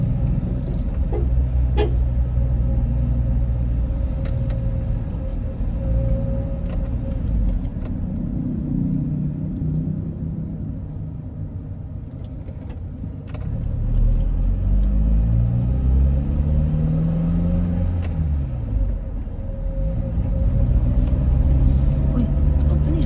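Road traffic rumble heard from inside a car driving through traffic in Cavite, Philippines, a steady low engine and road drone with occasional faint horn toots, while people talk in the cabin.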